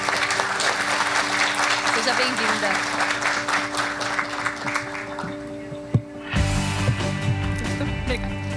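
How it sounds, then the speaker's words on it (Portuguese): An audience at a tobacco-farming sustainability forum applauds steadily to welcome a speaker, with a voice talking over the clapping and a brief pause before a louder, denser burst of applause near the end. "quem vai conversar com a gente um pouquinho agora é a Jerusa Caral, que recebe os nossos aplausos"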